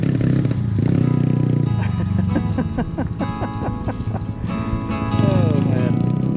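Yamaha TTR-90 dirt bike engine running while ridden, its fuel tank recently repaired and the engine sputtering slightly; a steady nearby buzzing drone with fluctuating revs and a clattering texture.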